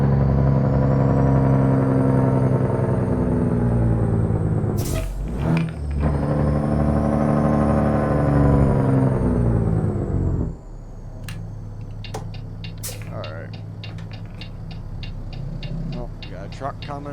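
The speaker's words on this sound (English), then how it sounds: "Here's the Jakes for you." A truck's engine compression brake (Jake brake) roars loudly and steadily for about ten seconds, then drops off into a lower idle with scattered clicks and knocks.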